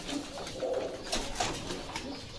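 Pigeons at a pigeon market in Bogura, Bangladesh, give soft, low coos that repeat several times over a quiet background murmur.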